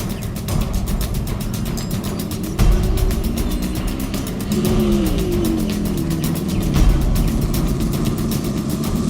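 A road vehicle engine driving along, a loud steady motor drone with shifting pitch and occasional bumps and surges, heard alone without speech.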